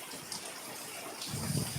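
Heavy rain pours steadily outdoors as a dense, hissing wash of sound, growing a little louder and rumbling toward the end, with no voices.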